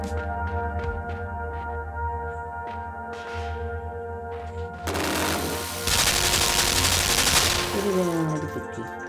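Automatic gunfire in a video game comes in bursts of rapid shots, first sparse sharp cracks, then a dense, loud stretch of sustained firing over a tonal game soundtrack.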